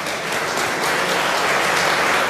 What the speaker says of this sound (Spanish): La respuesta de la gente con estos aplausos.